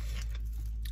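Someone eating a sub sandwich nearby, with soft chewing and biting sounds over a steady low background hum, no talk.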